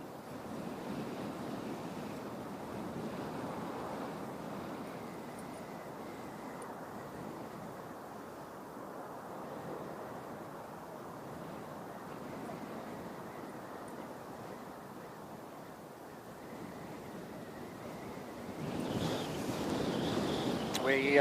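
Strong, gusty wind at Christchurch airport in New Zealand, a steady broadband roar buffeting the microphone throughout and swelling louder toward the end.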